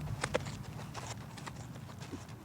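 A horse's hooves shift and clop during turn-around training, several soft, uneven steps at close range with low rustling between them and no talk.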